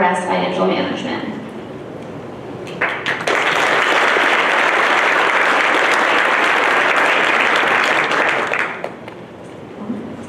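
A luncheon crowd at a federal awards ceremony breaks into sustained applause for the award winners, dense, loud clapping swelling after a brief spoken introduction and fading as talk resumes.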